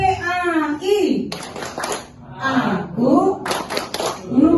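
Islamic education (PAI) teachers at a workshop opening do a rhythmic group clapping chant, bursts of patterned claps between chanted words, loud and close.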